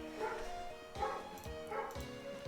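A pet dog barks and yips in a home, three sharp close bursts spaced about a second apart, with a faint whimpery quality.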